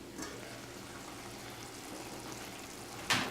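Onions sautéing in a saucepan, a steady soft sizzle and bubble throughout, with a brief louder crackle near the end.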